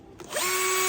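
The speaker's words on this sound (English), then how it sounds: "We're going to drill some holes in it." Power drill boring holes into a plastic takeout container, a short rising whine settling into a steady high motor tone, close and loud with no talking.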